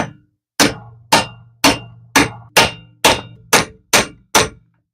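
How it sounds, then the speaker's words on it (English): A hammer raps a 3/4-inch socket set over a lawnmower primer bulb's retaining ring to seat it, nine close, loud metallic clangs in a steady rhythm, each ringing briefly, with no talk. "just give it a couple raps with a hammer to seat it"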